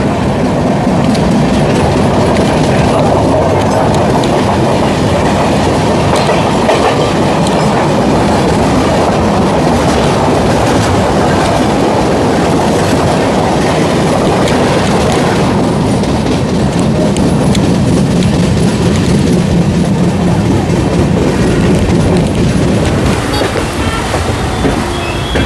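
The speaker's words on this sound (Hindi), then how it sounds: "हमारी ट्रेन न्यू दिल्ली में अराइवल करने जा रही है।" The Amrit Bharat Express runs toward New Delhi, loud continuous rumble of the carriages with rhythmic wheel clatter on the rails and faint squeals, no talking.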